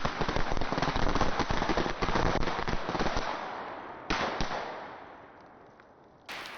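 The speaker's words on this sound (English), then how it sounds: "here goes the Black Cat firecracker strip" A Black Cat firecracker strip goes off outdoors in a rapid, dense crackle of many loud pops for several seconds, then thins into scattered bangs before one last sharp burst.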